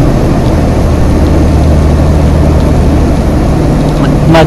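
A loaded heavy truck with an 18-speed manual transmission drones loudly from inside the cab, its low engine rumble steady throughout as the driver downshifts.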